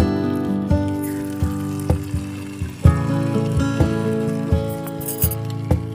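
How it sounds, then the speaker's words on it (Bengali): Shiuli leaves dipped in batter and fried in oil in a miniature cooking set, giving a steady bright sizzle punctuated by small metallic clinks and taps from a utensil at irregular intervals. "ব্যাটারে ডুবিয়ে তারপরে আমরা ছেড়ে দেবো তেলের মধ্যে"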